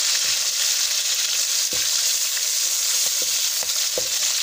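Round chillies fry in hot oil for mustard greens (sarson ka saag), giving a loud, continuous sizzle broken by a few sharp crackles and spatters. Nobody speaks.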